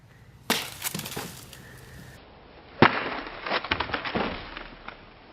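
Shanghai spy sword firing a shot into a coconut: a sharp crack, then a second loud report followed by a rattle of smaller cracks and debris clatter, close by, with no speech.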